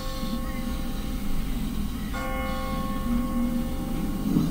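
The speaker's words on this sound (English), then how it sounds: "What kind of church bell goes off at 20 past the hour?" A church bell in The Walking Dead Season 1 video game tolls with a ringing, sustained tone that hangs in the air, struck again midway, over a low background hum.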